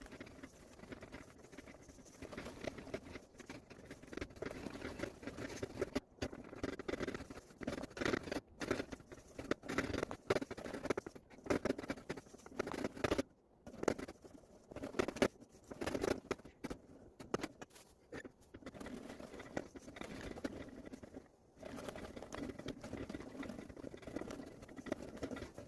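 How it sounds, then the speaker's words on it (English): Egg yolk batter for tiramisu is whisked by hand in a bowl, making a steady, fast patter of wire clicks and light sloshing at close range throughout. "continue whisking so the yolk temperature can rise evenly throughout the batter"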